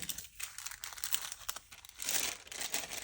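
Paper being folded and creased for a paper bag craft, with soft close crinkling and rustling in uneven bursts that grow busier toward the end, faint and without speech.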